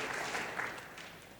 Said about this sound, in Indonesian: Mari beri tepuk tangan buat Tuhan.